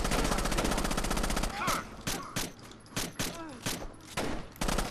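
Rainbow Six Vegas 2 gunfire, first as a dense rapid burst, then a series of separate loud single shots, with voices talking over the firing.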